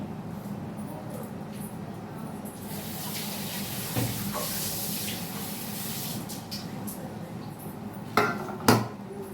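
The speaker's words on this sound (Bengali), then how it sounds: "এবার কিছু কাঁচা লঙ্কা আমি ধুয়ে নিচ্ছি" Green chillies washed under running water at a kitchen sink, with a steady splashing stream and a few light clinks of utensils near the end.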